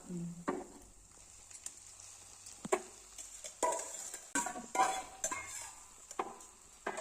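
Crushed crab added to a pan of frying onions and tomatoes for crab rasam, with a soft sizzle under repeated clinks and scrapes of a stirring spoon against the pan, fairly quiet and close.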